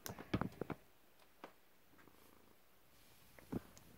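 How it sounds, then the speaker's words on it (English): A cat purrs softly and close by, with a few sharper rustles and snorty bursts at the start and near the end over a quiet low rumble. "Sorry for my cat being here, everybody."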